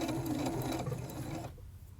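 A sewing machine stitches a skirt hem, running as a fast, even mechanical chatter for about a second and a half before stopping, leaving quiet room tone.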